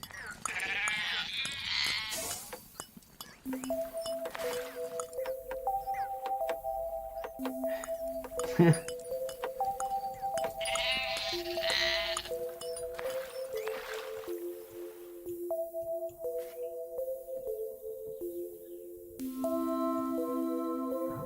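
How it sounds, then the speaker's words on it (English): Sheep bleats in the video game The Colonists, two wavering bleats early and mid-way over a steady bed of plinking melodic game music and soft clicks. "This sheep's name is Smishi."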